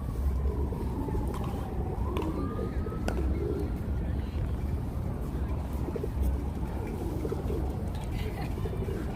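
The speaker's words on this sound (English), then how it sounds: "Oh, look how many pigeons here." Pigeons in a busy urban park on the Upper East Side of New York City, their soft coos and bird calls mixed into steady outdoor ambience with traffic and people talking nearby.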